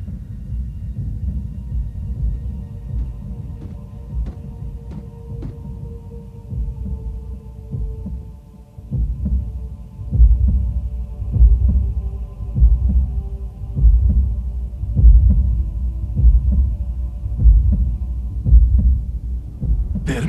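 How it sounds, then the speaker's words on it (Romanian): A synthetic Cybertronian heartbeat effect from Transformers Prime throbs steadily for twenty seconds, a low rumbling double pulse repeating about once a second over a sustained electronic hum, growing stronger partway through, with no talking. "O bătaie cybertroniană de inimă?"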